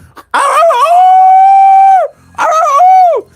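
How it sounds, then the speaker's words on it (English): A dog howls loudly and close by, giving two long, drawn-out tonal howls, the first lasting well over a second and the second shorter, each opening with a rougher bark-like onset. "Big dog in the house."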